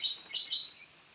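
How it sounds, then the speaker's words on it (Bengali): Quail on a quail farm give a few quick, high, thin chirping calls over about a second, fairly faint and close against a quiet background. "এই হচ্ছে আমার কোয়েল খামার।"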